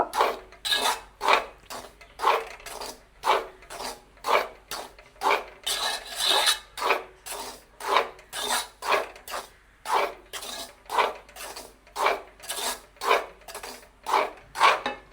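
Flour being stirred and scraped in a pan over a low flame, with a steady rhythmic scrape of a metal spoon against the pan, roughly two strokes per second, close and clear, with no talking.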